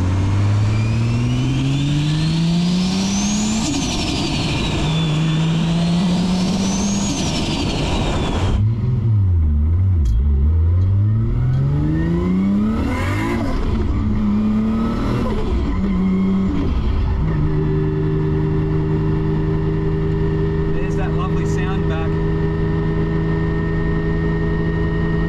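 Nissan Skyline GT-R with an RB30 3.2-litre engine accelerating hard, engine note rising through repeated gear changes with sweeping pitch climbs, loud and close throughout with no talk.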